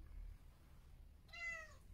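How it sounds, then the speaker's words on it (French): A single clear cat meow, fairly close, after a moment of quiet background hum. "il était beau le miaou"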